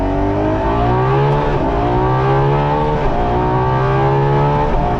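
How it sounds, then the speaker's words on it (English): A rear-wheel-drive Ferrari LaFerrari is floored from first gear, its engine note loud and close, climbing sharply in pitch and then dropping briefly at each of several quick shifts before climbing again. "Especially because it's rear-wheel drive, it's pretty intimidating to floor it in this thing."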